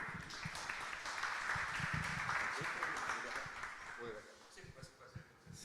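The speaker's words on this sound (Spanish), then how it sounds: "Un aplauso para el doctor Múnich" Audience applause at an evening lecture event, a sustained wash of clapping that fades out toward the end, with voices speaking over it.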